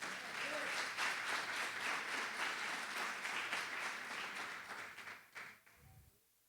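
At a family Sunday church service, the congregation applauds together: a broad, even wash of many clapping hands that holds steady for several seconds and then fades away near the end, quiet and somewhat distant overall.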